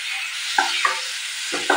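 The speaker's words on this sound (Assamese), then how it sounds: "বিলাহীখিনিও ভালদৰে সিজি যোৱালৈ মই ভাজি ল'ম" Finely chopped tomatoes frying in a pan, a brief, steady close sizzle broken by a few quick spatula scrapes, with no talking.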